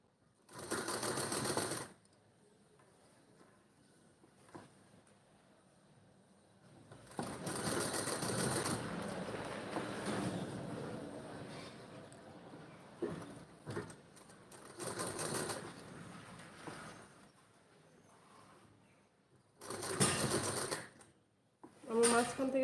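An electric sewing machine stitches a blouse back neck in several loud, buzzing runs of a few seconds each, separated by pauses in which fabric rustles and someone speaks softly.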